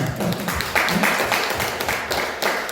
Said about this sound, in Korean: 여교우들이 참 잘해줘서 고마운데 박수 한번 해드립시다.